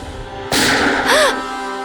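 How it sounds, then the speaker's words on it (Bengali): Gunfire in a TV crime drama: a sudden loud bang cuts through a quiet room, followed by a sustained burst of noise with a brief ringing tone. "মা, এটা কি গুলি চালানোর আওয়াজ?"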